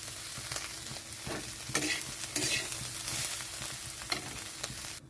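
Continuous dry sizzling with repeated scraping strokes of a spatula stirring dried shrimp frying in a pan, no voices.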